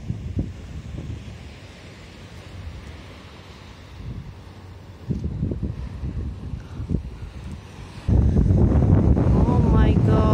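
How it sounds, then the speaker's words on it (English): Heavy wind at Saroma Lake, Hokkaido, buffeting a microphone, rumbling in gusts and swelling to a loud, constant roar near the end. "Sorry, it's quite windy today."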